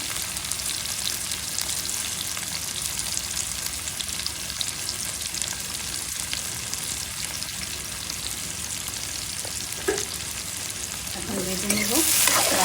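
Onion, green chilli and tomato with salt sizzle steadily in a pan for karfu fish curry with gathi kochu, a constant hiss with soft stirring scrapes that swell louder near the end.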